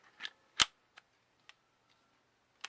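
A Tippmann A5 paintball marker's tombstone clicks into its slot, one crisp plastic click among a few quieter ticks and taps from handling the parts, close and otherwise quiet.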